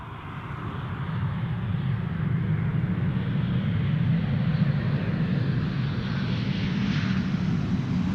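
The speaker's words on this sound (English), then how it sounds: "this A319 is also in the Star Alliance livery" An Airbus A319 airliner in Star Alliance livery rumbles past at Amsterdam Schiphol Airport, its engine roar rising quickly and then holding loud and steady, with no pauses.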